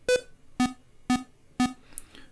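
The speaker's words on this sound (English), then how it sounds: "we can turn up the volume of our metronome with this" Metronome on a Sonicware Liven Bass&Beats groovebox clicks out four evenly spaced, crisp electronic beeps about half a second apart, close and clear against near silence.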